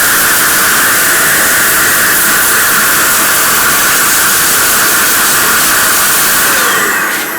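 A hair blower blasts compressed air around the lever screw of a Wahl Legend clipper, a loud, steady broadband hiss that holds unbroken for about seven seconds before easing slightly at the end.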